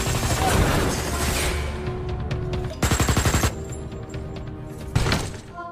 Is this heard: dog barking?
no